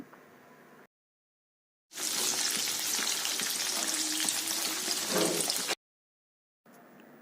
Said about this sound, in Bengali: প্রথমেই আমি একটু পনিরগুলোকে হালকা ভেজে নিচ্ছি কড়াইতে তেল গরম করে